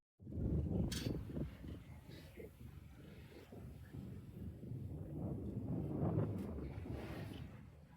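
Wind rushes steadily across the microphone aboard a sailboat at sea on a fine day, a broad constant roar with some buffeting and faint voices underneath.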